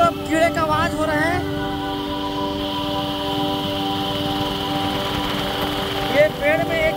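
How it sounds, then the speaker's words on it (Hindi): Insects in the trees on hills near a hilltop temple give a steady, shrill summer buzz and chirr that runs continuously throughout, while someone talks over it. "ये पेड़ में एक कीड़ा बैठा रहता है जो गर्मी के दिनों में अक्सर किरकिर किरकिर करके आवाज करता है"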